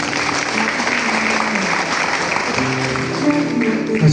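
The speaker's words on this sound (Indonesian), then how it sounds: "Tepuk tangan dong." Applause from an audience at a school ceremony for tenth-grade students finishing their training, a steady moderate clapping throughout with some voices underneath.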